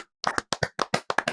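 A group of people clapping during a podcast recording in a short, uneven burst of about ten sharp claps, close and loud.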